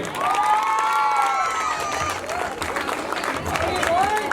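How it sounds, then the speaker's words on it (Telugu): Audience at a school annual day celebration applauds and cheers in a steady crowd roar, with an amplified voice and children's shouts carrying over the clapping throughout. "ప్లీజ్ గట్టిగా ఒకసారి చప్పట్లు కొట్టండి."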